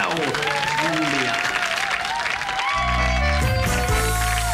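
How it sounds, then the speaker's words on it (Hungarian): An audience at a stage show breaks into loud, dense applause under a host's voice and music, the clapping steady and close throughout. "Gyerekek, tapsoljuk meg Rómeó Júlia!"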